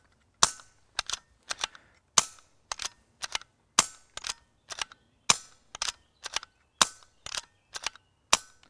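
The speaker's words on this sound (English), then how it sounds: "You can now hear that the shot has become almost silent." A BSA Super 10 air rifle fires with a regulator fitted to its air bottle. The result is a string of sharp, quiet clicks, many in close pairs, spaced fairly evenly with silence between them.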